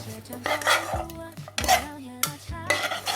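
Sweet liver salad is tossed with sliced shallots and parsley, producing clinks and scrapes of utensils against a bowl in several bursts with brief pauses between them, close and fairly clear, with no voices.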